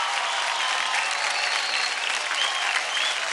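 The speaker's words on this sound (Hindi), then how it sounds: "कम ऑन गाइस, जोरदार ताली हो जाए अभय और राजस्मिता के लिए।" Loud, steady audience applause fills a dance competition TV studio, a dense continuous roar of clapping from a large crowd with no letup.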